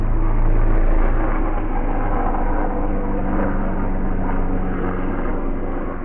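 Loud, steady airplane engine drone with a propeller-like hum, sustained throughout and slowly fading slightly toward the end, with no voices.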